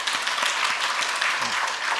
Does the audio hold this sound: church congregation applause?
yes